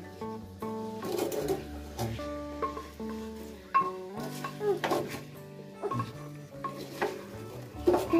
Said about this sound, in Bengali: মশলাগুলো যেন মিক্সড হয় এই জন্য আমরা এই নাকড়ি দিয়ে আস্তে আস্তে করে একটু হচ্ছে নাড়াই নিচ্ছি